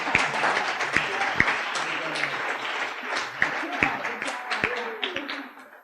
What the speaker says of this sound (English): give all of our flash talkers a huge round of applause